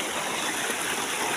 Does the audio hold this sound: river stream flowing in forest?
yes